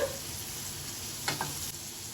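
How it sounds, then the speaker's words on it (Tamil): Ingredients sautéing in a pan for a soya chunk gravy give a steady, even frying hiss, with a single brief spoon scrape partway through, close and alone. "நல்லா வதக்கி விட்டுக்கோங்க"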